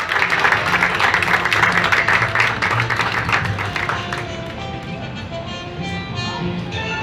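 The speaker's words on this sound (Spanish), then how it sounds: "Recibámoslos con un fuerte aplauso" Audience applause at a municipal art exhibition in Tejupilco, 2023, welcoming the exhibiting artists; clapping is strongest early, fades after a few seconds, and gives way to background murmur and faint music.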